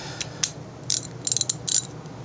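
A ratchet snugs a bolt on a John Deere LA145 riding mower: short bursts of close, crisp clicking in quick uneven strokes over a low background hum.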